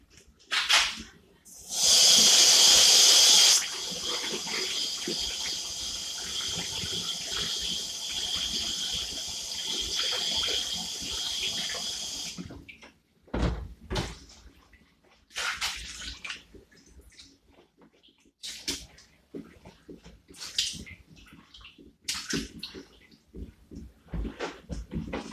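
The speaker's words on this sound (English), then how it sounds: "So you rub your rice to get most of the dirt and the starch off." Rice is washed by hand in water, starting with a loud splashing gush of pouring water that gives way to steady sloshing and softer, uneven swishes and drips as the grains are rubbed, close by with no talk.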